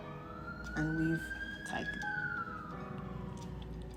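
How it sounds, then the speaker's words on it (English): An emergency vehicle siren wails, rising and falling in a slow sweep from down the street, while a person speaks softly nearby. "Sorry about the siren, they pass through my street every day."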